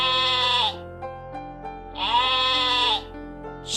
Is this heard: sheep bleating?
yes